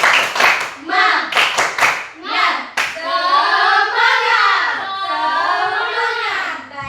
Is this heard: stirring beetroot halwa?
no